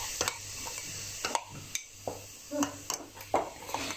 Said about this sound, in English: Make sure you mix well